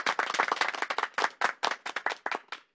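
Crowd clapping rhythmically in unison at a rally-style gathering, a steady run of sharp, loud claps with no speech over them.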